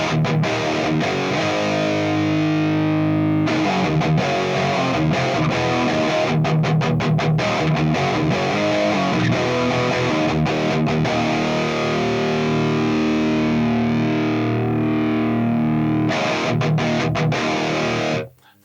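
Heavy, saturated electric guitar through a preset on an Axe-Fx III, playing dense chugging riffs with brief choked stops, loud and continuous with no voices.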